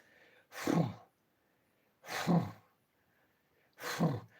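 A voice imitates the hard breathing of a pregnant female leopard, three slow, breathy rasping exhalations spaced evenly apart, quiet and close with silence between.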